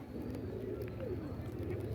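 Steady low cooing from a pure Washi pigeon, a continuous soft murmur throughout with no voices over it.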